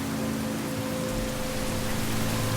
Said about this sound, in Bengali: ঝড় বৃষ্টি হচ্ছে